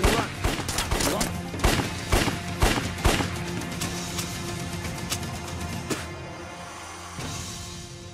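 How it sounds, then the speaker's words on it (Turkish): Gunfire crackles in a rapid burst of sharp reports during a tense scene in the Turkish drama series Kertenkele, the shots loud and close for the first few seconds before tapering into a fainter scattered echo and background rumble. "Nereden geliyor lan bu silah sesleri?"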